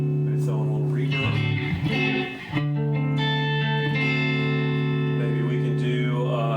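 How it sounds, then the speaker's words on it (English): Sustained electric guitar chords through a budget amp modeler's reverb ring out with a washy, echoing tail, the notes blurring into a spacious reverberant sound. "Maybe throw in a little reverb."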